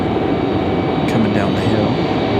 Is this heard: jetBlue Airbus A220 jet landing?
yes